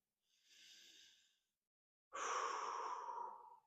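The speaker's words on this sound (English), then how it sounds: "Just nice, slow breaths here." Slow, deep breathing during an ankle dorsiflexion stretch: a soft, airy breath followed after a pause by a louder, fuller exhale, close and alone without talk.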